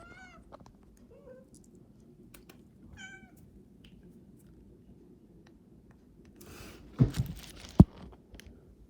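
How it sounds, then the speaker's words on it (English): Cat at an Airbnb giving several short, faint meows scattered through a quiet room, followed by a few louder crunching, handling noises near the end. "My Airbnb has a cat."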